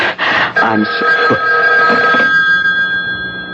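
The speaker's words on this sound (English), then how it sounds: "The phone. At this hour?" A telephone bell rings loudly in a house late at night, a sharp metallic ring with a sustained tone that trails off.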